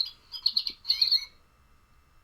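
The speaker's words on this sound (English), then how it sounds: "I have to listen to little stuffed animals like this to be like, what does a goldfinch sound like?" A plush toy bird plays a recorded goldfinch call: a quick run of bright, twittering chirps in two short bursts, then quiet with faint background hum.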